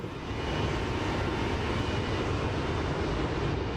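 A Boeing 727-200F cargo jet landing in Microsoft Flight Simulator 2024, a steady, dense engine roar and wind rush holding constant and loud, with no talking.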